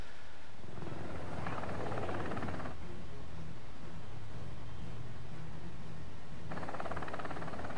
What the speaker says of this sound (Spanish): bajamos con el helicóptero